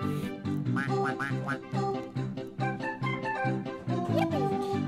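A cartoonish duck quacks repeatedly in the retro game Baby Jo the Superhero, its short quacks bouncing in a rhythmic pattern over upbeat chiptune music.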